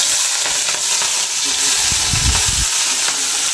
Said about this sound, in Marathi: त्यानंतर मी हिरव्या मिरच्या कट केलेल्या आहे, बघू शकता मित्रांनो, त्या टाका आता तेलामध्ये